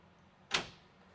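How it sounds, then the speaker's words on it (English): An LCI Lippert screen door on a fifth wheel RV gives a single sharp, bright snap or latch click, close and brief, in a quiet interior. "This is an LCI or Lippert screen door."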